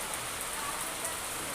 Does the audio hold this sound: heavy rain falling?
yes